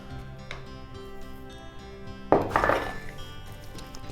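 Seasoned quartered potatoes stirred in a bowl with parsley, salt and garlic, giving a quiet clatter that swells into a burst of clinking and scraping against the bowl partway through.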